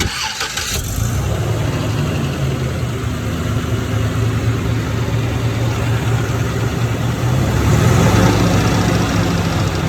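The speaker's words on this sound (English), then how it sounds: "Start this thing in drive because I'm a rebel." A car engine cranks over in drive and catches, then settles into a loud, steady rumbling idle with a slight rise in revs near the end, close up and without talk.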